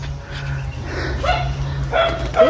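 Several dogs bark in short bursts at a moderate distance, some of them reportedly balding, over steady low background hum, with a couple of sharper yips toward the end.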